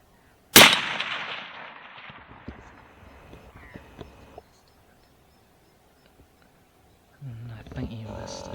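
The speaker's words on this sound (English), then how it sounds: "The shot didn't look great and the light was pretty much gone" A single sharp, loud rifle shot is fired at a deer at dusk, cracking near and then rolling away in a long fading echo, with quiet voices following later.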